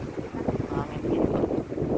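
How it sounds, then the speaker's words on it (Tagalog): Strong wind buffets the microphone by the sea at a seaside park at dusk, a steady rushing roar with gusts that swell and dip throughout. "Hangin dito."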